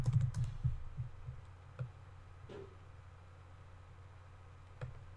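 Light typing on a computer keyboard while writing a Facebook post, a quick burst of clicky keystrokes at first, then sparse single taps over a quiet room hum.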